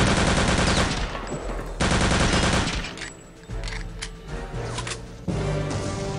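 Loud bursts of automatic gunfire from the video game Return to Castle Wolfenstein, several long volleys broken by short lulls with scattered shots and clanks.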